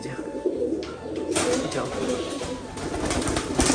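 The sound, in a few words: pigeons cooing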